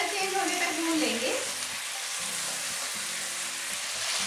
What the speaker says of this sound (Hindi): चिकन को कलर चेंज होने तक भून लेंगे।